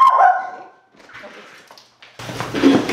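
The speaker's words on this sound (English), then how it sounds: "she's barking at something" A dog barks at a squirrel outdoors, a couple of sharp barks up close at the start and again near the end, with quieter stretches between.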